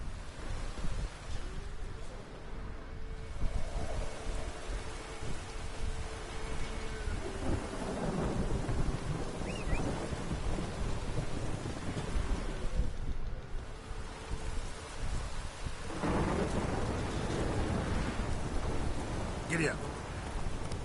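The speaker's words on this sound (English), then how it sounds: "storm, damn it." A thunderstorm with rain in the video game The Witcher 3: steady rain and wind under repeated deep rolling thunder, with louder rumbles and cracks at intervals, continuous throughout.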